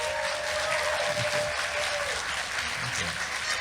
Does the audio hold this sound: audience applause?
yes